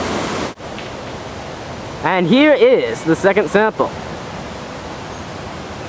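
Steady broadband rush of a waterfall runs through the whole scene, with a person speaking over the roar in the middle.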